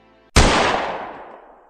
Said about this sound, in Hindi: तभी अचानक से गोली चलने की आवाज आई